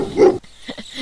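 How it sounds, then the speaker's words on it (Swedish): Dog barking in a Moomin hide-and-seek video game, one loud bark followed by a few shorter, softer yips. "En låda som blir till en hund"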